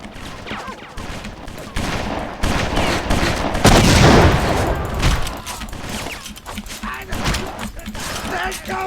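Grenades burst amid heavy gunfire in BloodRayne, rapid shots and a loud explosion in the middle, with someone talking over the action.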